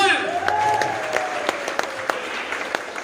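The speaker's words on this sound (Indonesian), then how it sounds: "Tepuk tangan untuk ibunda jenengan semua." Applause from a gathering of non-civil-servant staff in Central Java, with dense clapping that carries sharp individual claps and a voice running underneath it.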